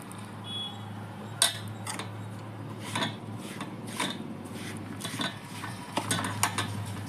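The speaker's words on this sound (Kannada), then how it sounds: "ನಾನು 1-2 ಸೌಂಟಷ್ಟು ಮೊಸರು ಹಾಕ್ಕೊಂಡು ಕಲಿಸ್ಕೊತಾ ಇದ್ದೀನಿ" A spoon scrapes and clinks against a steel bowl while rava (semolina) is stirred together with curd for rava idli, giving irregular metallic taps and rubbing strokes at close range.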